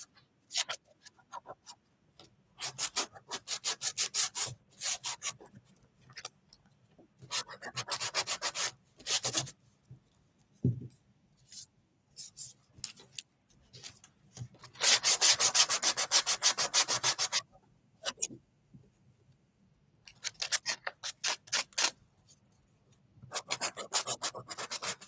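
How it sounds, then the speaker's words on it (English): Sandpaper rubbing a wooden craft piece for angel wings during live crafting, heard as bursts of dry, scratchy back-and-forth strokes with pauses in between, close and moderately loud, with no talking. "I'm just going to sand this down a little bit too."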